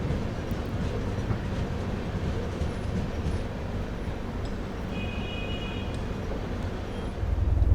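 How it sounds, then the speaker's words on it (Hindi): A Vande Bharat express train runs along the tracks at a fair speed toward Rajkot, a steady close rumble with a faint rhythmic clatter that swells louder at the very end. "चलिए, ठीक ठाक रफ्तार से अपनी ट्रेन फ़िलहाल भागना शुरू कर चुकी है"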